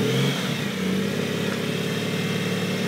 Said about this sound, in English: back to fourth gear, back down to third gear, back to second gear.